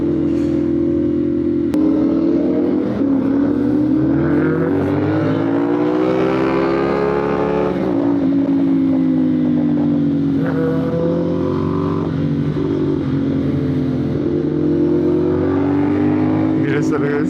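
Motorcycles including a Kawasaki ZX-10R and a Honda CB650 rev and pass nearby, engine pitch rising and falling in waves across the whole stretch, with people talking throughout.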